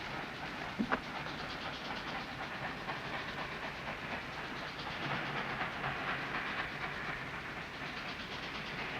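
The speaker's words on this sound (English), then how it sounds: "The second train." A train rolls along the rails in a 1951 Civil War film scene, a steady rumbling clatter with hissing steam lasting throughout, a brief sharp knock near the start, no talk over it.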